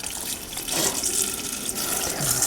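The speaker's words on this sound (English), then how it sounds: "Bucket, let's see if this allows us to take this water out." Water drains from boiler heating pipes into a bucket, a steady close splashing and gushing pour that runs continuously with slight surges, no talk.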